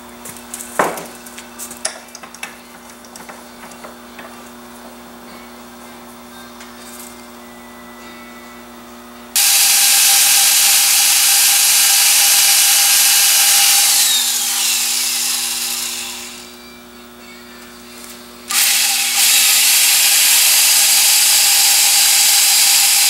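A few sharp knocks and clicks, then a power drill whines loudly for several seconds, drilling beside the metal wedge in a hammer handle, pauses briefly, and starts up again close by.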